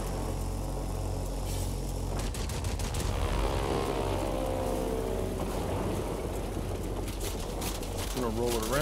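Fighter plane engines roar in World of Warplanes, a steady, loud propeller drone that holds throughout, with rising and falling engine pitch near the end and speech underneath.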